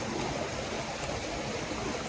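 Rainwater floods through village lanes like a river after heavy rain and hail, a dense, steady rushing wash of flowing water heard close and alone.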